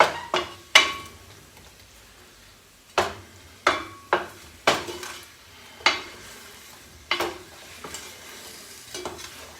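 A spoon scraping browned bits around a hot pan with softened oranges, repeated sharp metallic clinks and scrapes in irregular strokes over a quiet sizzle.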